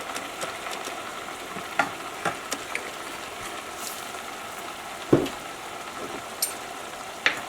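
Ramen noodles stir-frying with stir-fry sauce for surf and turf ramen, a continuous close sizzle with occasional sharp clicks and taps of utensils against the pan.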